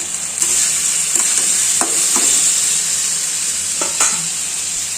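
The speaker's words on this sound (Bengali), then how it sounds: "তেল গরম হয়ে গেছে, কড়াই রেডি দিয়ে দিলাম। সিম্পলি করবো আলু ভাজাটা" Potatoes frying in hot oil in a wok give a loud, steady bright sizzle, with several sharp scraping or stirring clicks scattered across it and no talk.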